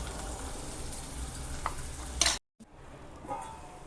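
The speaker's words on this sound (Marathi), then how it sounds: "चांगलं असं परतून घेऊया आपण कांदा।" Chopped onions sautéing in a pan with a pinch of salt while a spoon stirs them, a steady close sizzle with scraping strokes, cut off by a brief silence before quieter stirring resumes.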